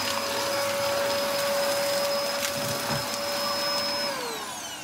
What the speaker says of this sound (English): We're gonna use this to vacuum out the inside of the blue van.